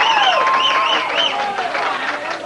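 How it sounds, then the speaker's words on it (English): At Eastgate Lanes during a 1988 televised King of TV Bowling match, a crowd cheers after a strike, with shrill wavering whistles rising over continuous background noise, while a voice talks alongside. "You hear the crowd."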